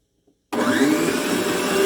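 A planetary stand mixer kneading soft stuffed-bread dough switches on abruptly after a moment of silence, then runs as a loud, steady motor whir with a faint rising whine, close by and alone.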